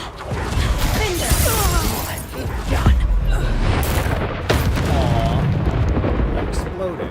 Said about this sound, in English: Aww. Exploded.